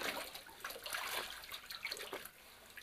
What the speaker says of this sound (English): You wet it real good, let it soak up a lot of water.